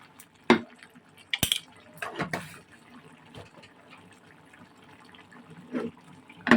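Water is poured into a pot of bottle gourd as it cooks, heard as a few close, brief splashes and trickles scattered among quieter kitchen clatter.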